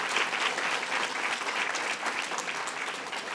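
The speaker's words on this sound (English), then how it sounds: "Let's give them a big round of applause." An audience at a public announcement event in Hempstead breaks into dense, steady applause that stays close and loud for the whole span, with no voices over it.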